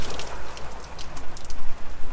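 Rain falls around a 2011 third-generation Kia Sportage CRDi, a dense, irregular patter of drops that swells and dips in uneven bursts, close and fairly loud with no voices.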